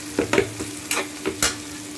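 Ginger garlic paste frying in a pan while being stirred, with a low steady sizzle broken by several quick scraping strokes of the spoon, close and fairly quiet.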